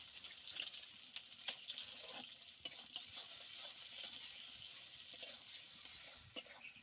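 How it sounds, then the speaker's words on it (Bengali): Onion and garlic sizzling in hot oil in a pan, a steady close crackle with scattered sharp pops and occasional stirring scrapes, no talking. "সুন্দরভাবে তেলটা ফুটছে"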